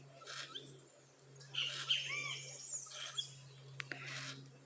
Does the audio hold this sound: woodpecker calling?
yes